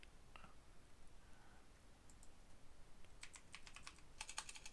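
Quiet computer keyboard typing during a Magic: The Gathering deckbuilding session, with sparse keystrokes at first, then dense bursts of rapid clicking toward the end over a faint background hiss, and no talking.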